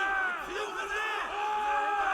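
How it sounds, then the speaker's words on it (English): A crowd of soldiers yells and whoops in a battle game set in Japan in 1564, many overlapping wavering voices forming a continuous loud roar. "Can you hear these guys yelling?"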